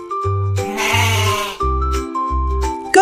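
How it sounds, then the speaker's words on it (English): An animated farm goat bleats in a long wavering cry, followed by shorter bleats, over a steady, pulsing background music track in a children's farm-animal cartoon. "Goat,"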